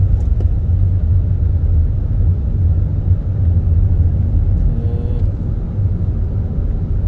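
Road traffic moves through the Ghala industrial area of Muscat, Oman, a loud, steady low rumble of passing vehicles that runs without a break.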